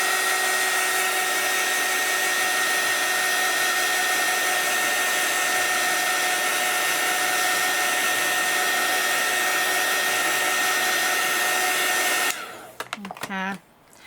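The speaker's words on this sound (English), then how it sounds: "So heat tool going on now." A heat tool blows steadily over a journal page freshly marked with paint pens, a loud, even whirring hum lasting about twelve seconds before it cuts off, followed by a few brief handling clatters.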